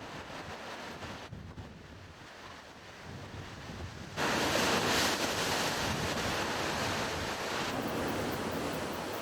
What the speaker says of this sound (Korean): 이곳의 파도 소리는 사방에서 들린다.